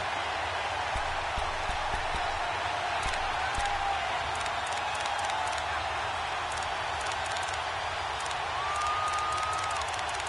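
Steady roar of a football stadium crowd cheering in a PS4 college football game, a broad continuous wash of massed voices with faint whistles and calls, holding at an even level throughout.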